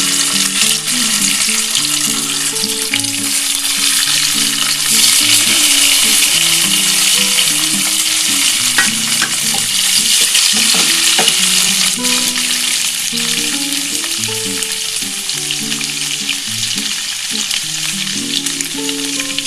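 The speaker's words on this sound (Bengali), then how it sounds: "আমার তেলটা গরম হয়ে গেছে এবার আমি অল্প একটা একটা করে পনির ছেড়ে দিলাম" Paneer pieces fry in hot oil, producing a loud, continuous sizzle and bubbling crackle that holds steady for the whole stretch with no voices.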